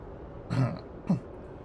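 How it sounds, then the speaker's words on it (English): A person clears their throat in two short, rough bursts, the first fuller and the second quick and clipped, close and fairly loud against a quiet room. "I need to clear my throat."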